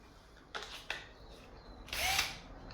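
A TOOLPRO 12V cordless polisher for headlight restoration spins up in quiet, brief bursts: two quick whirs, then a slightly longer whine, with no talking.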